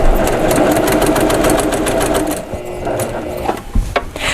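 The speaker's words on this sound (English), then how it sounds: "I'm going to start on the one side and I'm going to stitch about 2 or 3 inches in" A Baby Lock Accomplish sewing machine stitches fabric close to an edge, a loud, fast, rhythmic whir for over two seconds, then stops and leaves a few soft clicks and handling sounds.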